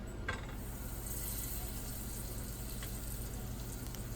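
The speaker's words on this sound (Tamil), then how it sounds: "ஸோ பேன் வந்து சூடாகிடுச்சு. ஸோ நான் கொஞ்சம் பட்டர் ஆட் பண்ண போகிறேன்." Butter melts in a hot pan with a soft, steady hiss over a low background hum. The sound is faint and continuous.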